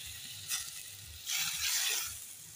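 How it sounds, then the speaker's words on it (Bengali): Water poured onto well-fried spice paste in a pan for a Holi vegetarian cauliflower dish, giving a brief hiss and then a louder, sustained sizzle that slowly fades, with no talking. "মশলা ভালো করে কষানো হয়ে গেছে, আর একটু জল দেবো।"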